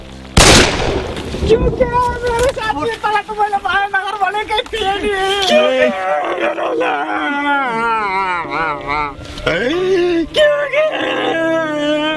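One sharp gunshot cracks near the start, followed by people talking loudly over a busy background, in a Nepali short film.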